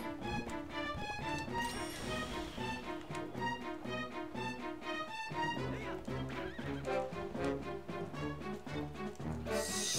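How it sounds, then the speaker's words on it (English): Horse neighing and galloping hooves in The Legend of Zelda: Twilight Princess, steady clip-clop rhythm with whinnies, loud and continuous under the game's busy music for the whole stretch. "Come on, Link. Fucking turn your horse around"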